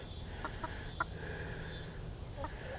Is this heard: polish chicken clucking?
yes